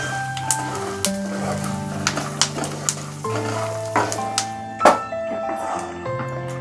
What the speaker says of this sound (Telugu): పల్లీలు ఎండుమిర్చి బాగా ఫ్రై అయిపోయినాయి